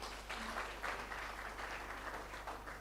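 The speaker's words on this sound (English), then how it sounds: "you can clap for them" Applause from a meeting audience for presenters, a steady wash of many hands clapping together, soft and somewhat distant, lasting a few seconds.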